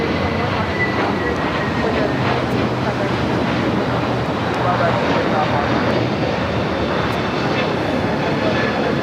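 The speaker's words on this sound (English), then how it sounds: "the Delta flight getting ready for a north side takeoff" A Delta airliner's engines hum in a steady, loud, continuous drone as it readies for a north side takeoff at LAX, with broadband rumble throughout and no clear change in pitch.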